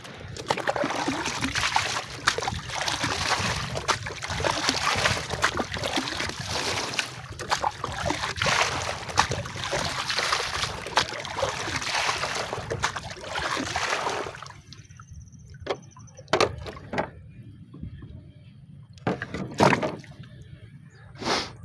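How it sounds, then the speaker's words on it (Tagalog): Water is poured into a container holding live fish, a steady rushing splash for about fifteen seconds that then stops, leaving scattered small splashes and knocks. "tapos lalagyan na lang natin ng tubig"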